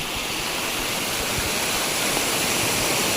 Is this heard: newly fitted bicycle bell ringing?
no